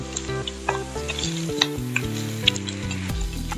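Onion sizzles in hot oil with cumin in a pan, a steady loud crackling fry with stirring clatter and a few sharp spoon knocks, close up and without talk.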